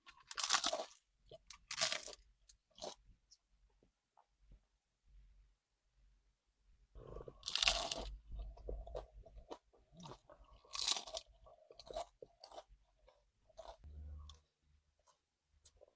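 Close, crisp crunches of a crunchy taco from a Mexican restaurant being bitten and chewed, coming in bursts of sharp cracks with quiet pauses between them.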